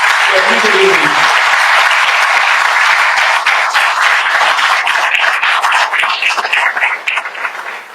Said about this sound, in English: please give a big shout out, big round of applause to everybody in BPA.